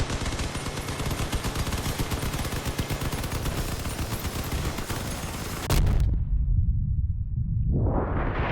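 Dense, continuous automatic gunfire in the vehicle combat game Crossout, a loud rapid rattle for most of the stretch, then a heavy low rumble with the high crackle dropping away before sharper fire returns.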